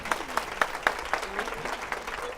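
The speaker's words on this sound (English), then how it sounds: "We give them a warm round of applause now." A seated audience gives a short burst of clapping during a home-improvement talk at a Home Depot store. It is dense and fairly close with no talking over it.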